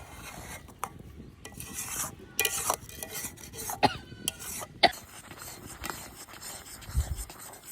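A spoon scrapes and stirs mango and mint paste in a wok in close, irregular bursts of rasping metal strokes with occasional clinks and a faint sizzle beneath, no voices.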